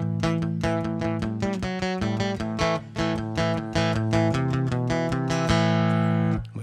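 Electric or acoustic guitar plays the intro riff of a song, a steady run of plucked notes and chords with clear sustained harmonics, close and even in level, with no voices.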